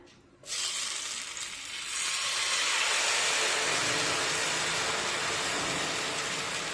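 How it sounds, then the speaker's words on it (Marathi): Wheat-flour dhirde batter hits a hot pan with a sharp onset, then a loud, steady broadband sizzle that swells after a second or two and holds evenly to the end, with no voices. "त्यानंतर बॅटर या पॅनमध्ये सोडूया"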